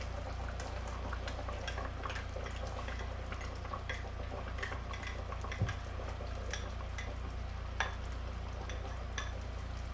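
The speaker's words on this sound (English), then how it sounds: "Let's boil it more, because it's not really tender yet." Beef caldereta in tomato sauce simmers in a pot, giving a low steady bubbling with scattered pops and occasional soft clinks of a utensil against the pot, moderately quiet and without talk.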